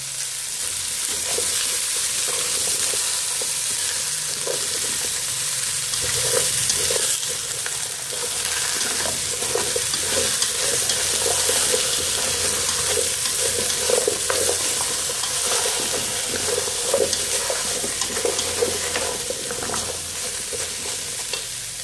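A pot of snail, green banana and tofu stew is stirred over the heat, giving a steady sizzle and bubbling with repeated soft scraping strokes throughout, close and fairly loud.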